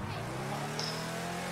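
Car driving in the video game GTA Online, a steady engine hum with a brief tyre squeal partway through, fairly quiet and without speech.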